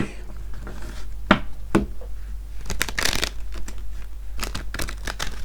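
Tarot cards shuffled by hand in a run of crisp riffling bursts and soft slaps, close and fairly quiet, with no talk.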